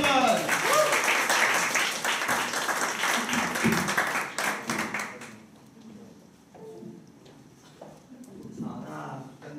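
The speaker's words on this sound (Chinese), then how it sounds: "我们掌声欢迎" An audience at a Taipei talk event claps to welcome a speaker on stage, with dense applause for about five seconds before it fades and a voice begins speaking.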